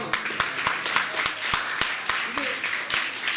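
An audience at a district conference of a charitable society claps for a student, a scattered ripple of individual hand claps, some sharp and close, continuing steadily without voices.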